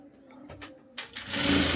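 A sewing machine stitches lace onto a shalwar hem, starting with soft clicks, then breaking into a brief, fast, steady whir.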